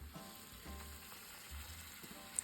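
Deer tenderloin fries in a pan, giving a faint, steady sizzle with small crackles and a low hum underneath.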